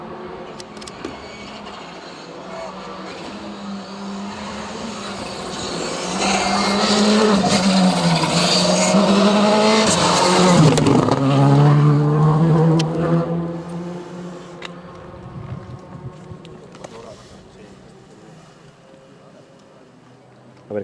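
Rally car on a closed stage of the Rallye Mariña Lucense near O Vicedo, its engine rising to a loud close pass around mid-clip and then fading away, with spectators talking nearby.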